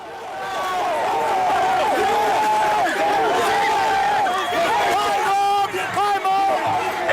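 Home crowd at a high school football game roars after a last-second touchdown, loud sustained cheering and shouting, with voices calling out over the noise.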